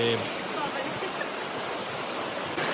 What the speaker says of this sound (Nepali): खोलाको नाला जल बगिरहेको छ